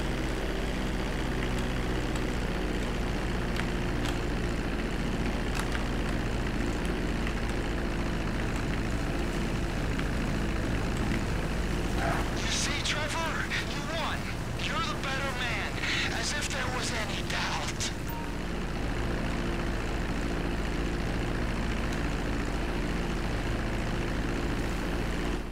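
A propeller aircraft engine drones steadily while landing on a runway in Grand Theft Auto 5, a constant rumbling hum that persists throughout, with a burst of voices and chatter partway through.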